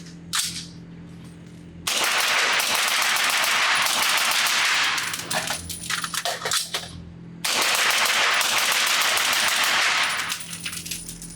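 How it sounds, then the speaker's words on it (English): Knight's Armament SR-30 rifle chambered in .300 Blackout fires two long, loud rapid bursts, each several seconds, with a brief pause between them and a quieter tail at the end. "I'm going to shoot some bursts with it, change the magazine out fast, get the gun back in action"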